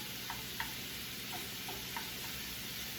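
Garlic frying in a pan for truffle-scented stuffed portobellos, giving a soft, steady sizzle with a few faint, scattered pops and ticks, quiet and uninterrupted by voices.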